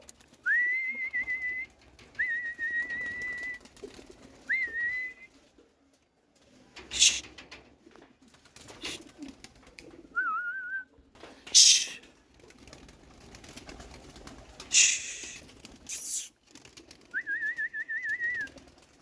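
Domestic pigeons released into hot sun, a series of near, clear rising cooing calls repeated in bursts with pauses, interspersed with sharp fluttering wing claps and scuffles.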